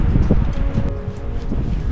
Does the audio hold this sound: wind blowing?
yes